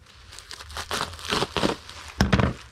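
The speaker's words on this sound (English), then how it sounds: "And we'll use a sheet of bubble wrap for him." A sheet of bubble wrap being cut and handled up close, with bursts of crinkling and rustling plastic, ending in a louder crumpling burst.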